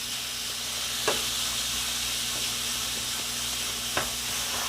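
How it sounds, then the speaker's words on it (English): Coconut oil heating in a pan gives a steady close hiss, with two faint pops standing out from the sizzle. "Trust me, the coconut oil is popping already."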